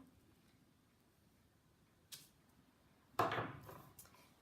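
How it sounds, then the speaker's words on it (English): A rubber stamp presses down onto paper in a quiet room: a faint soft tap, then a firmer, louder thump with a brief rustle, close up and without talk. "Stamp it down."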